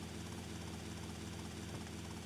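A helicopter in the video game GTA Vice City Definitive Edition, flying near water, gives a constant loud rotor and engine roar with no variation, no voices.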